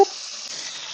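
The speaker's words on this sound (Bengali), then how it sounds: "পটল গুলো তেল দিয়ে ভেজে নি" Pointed gourd frying in oil makes a loud, bright, close sizzle that starts with a sharp burst and then settles into a steady hiss.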